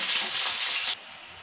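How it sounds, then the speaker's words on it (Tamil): Chopped onions dropped into hot oil with popping mustard seeds and urad dal, giving a loud, steady sizzle that cuts off abruptly near the end, leaving a quieter hiss. "இதில் நம்ம வெங்காயம் சேர்த்துடலாம்."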